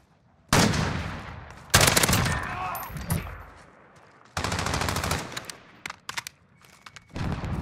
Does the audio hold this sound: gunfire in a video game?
yes